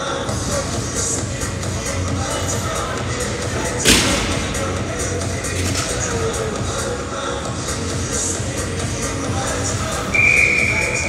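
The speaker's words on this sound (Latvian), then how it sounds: "atskan svilpe" During an ice hockey game in an echoing arena, a referee's whistle gives one short, shrill blast near the end, rising over steady crowd and rink noise after an earlier thud from the boards.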